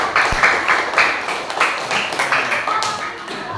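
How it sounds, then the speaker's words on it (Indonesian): A classroom audience claps for the first presenting group, a brisk burst of many hands close by, tapering slightly over a few seconds, with a voice speaking faintly underneath. "Beri tepuk tangan untuk kelompok 1."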